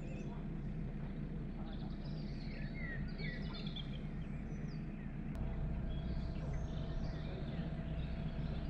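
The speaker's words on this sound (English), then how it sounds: "all we could hear was the bird song on the canal" Birds chirp and twitter faintly beside a canal at dusk, a soft scattered chorus over a steady low hum from a narrowboat engine.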